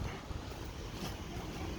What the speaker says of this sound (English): yeah, it's real windy out here.